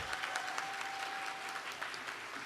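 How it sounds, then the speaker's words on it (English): Audience applause at the Miss World America 2023 pageant, a dense steady clapping from a large crowd in a hall, fairly faint and continuous throughout. "Could we have a round of applause for Carolina Biolaska?"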